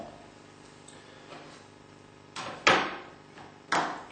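A glass cutter scoring glass: a few sharp, scratchy bursts close up, two louder rasping strokes near the end, each brief and crisp against a quiet background.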